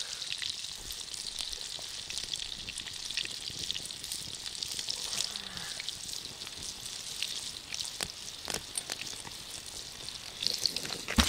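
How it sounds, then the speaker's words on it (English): Water boiling for cattail seed heads over a campfire, a steady bubbling hiss with scattered pops, moderately close and continuous throughout. "Got my water boiling"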